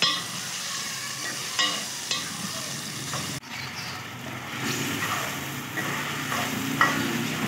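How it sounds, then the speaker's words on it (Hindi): Chicken pieces frying in oil in a pan, no spices yet added: a continuous close sizzle with occasional stirring clatters and scrapes, no talk. "थोड़ा सा मैं इसको बगैर मसालों के भून लेती हूँ"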